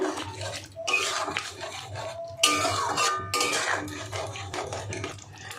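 Ground spice paste being stirred into a cauliflower vegetarian curry in a pan, with repeated scraping and clinking of a spoon against the metal pan and soft wet squelching, close and continuous, no voices.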